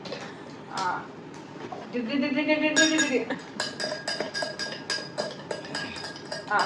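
A spoon stirs a homemade mojito in a glass, giving bright, irregular clinks and taps that grow busier midway. Children's voices talk over it.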